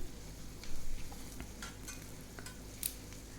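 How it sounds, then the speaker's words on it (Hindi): Onions browning in a pan over medium-high flame for a chana dal and jackfruit curry, giving a steady low sizzle with a few soft stirring scrapes and small clicks, close and fairly quiet, no talking. "प्याज को सुनहला करके भून लेते हैं"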